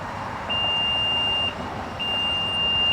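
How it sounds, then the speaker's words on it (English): A 2027 Infiniti QX65 power tailgate gives two clear electronic beeps confirming its set opening height, each a steady high tone about a second long with a short pause between, over quiet background hiss. "You listen for those beeps"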